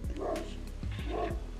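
A dog barks twice, low and gruff, close by, with a short gap between the two barks.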